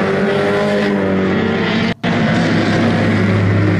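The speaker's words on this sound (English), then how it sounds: "He's got a mirror full of the lap car of Ken Larsh" Race cars roaring past on a speedway during a night feature race, a loud dense engine howl with several cars close together and a brief dropout partway through, with no voices.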